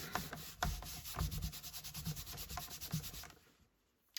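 A rubber stamp rubbed back and forth on a stamp cleaner, giving a soft, steady, close scrubbing with rhythmic strokes that fade out near the end.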